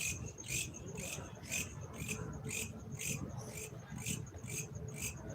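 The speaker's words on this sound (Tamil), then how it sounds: "மழை காலம்ல சிலுவண்டு சவுண்டு தான் இந்த செடிக்குள்ள" Cicadas shrill from bushes in the rainy season, a pulsing buzz repeating roughly twice a second, steady and fairly close, over a low background rumble.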